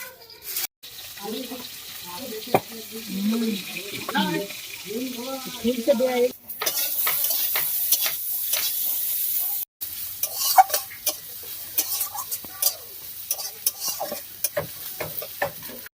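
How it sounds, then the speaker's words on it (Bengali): Onion and green chillies fry in oil over a village cooking fire in the Sundarbans, giving a faint crackling sizzle with scattered stirring scrapes. Brief murmured voices are heard early on, then the frying continues alone. "পেঁয়াজ আর কাঁচা লঙ্কা দিয়েছি তেলের উপর।"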